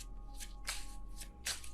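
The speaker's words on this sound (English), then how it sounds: "I feel like that was a little bit of a bad shuffle" Tarot cards shuffled by hand in quick riffling bursts, a few separate swishes spaced across the moment, close and moderately quiet over a low steady hum.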